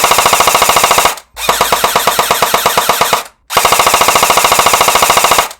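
An airsoft gun fires in loud, close full-auto bursts with the gearbox skipping, giving a rapid ratcheting clatter in three long strings split by two short pauses.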